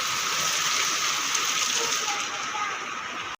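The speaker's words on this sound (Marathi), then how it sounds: "आज खूप पाऊस पडतोय जोराचा पाऊस चालू आहे बाहेर" Steady, heavy rain pours down with a dense, continuous hiss and splashing, loud and unbroken before it cuts off abruptly.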